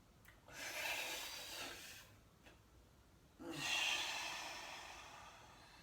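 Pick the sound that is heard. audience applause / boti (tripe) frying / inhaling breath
inhaling breath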